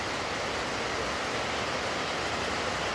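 A waterfall in Kodaikanal gives a steady, even rushing wash of falling water, continuous and moderately quiet, with no voices over it.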